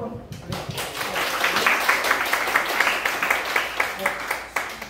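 An audience at an education lecture in Gyeonggi-do claps for about five seconds, a brisk, steady patter of many hands heard fairly close in an indoor hall.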